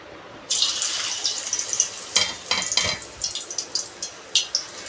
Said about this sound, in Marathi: आता आपण एक चिप्स टाकून बघू